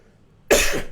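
A single sharp cough bursts out after a moment of near silence, close and loud.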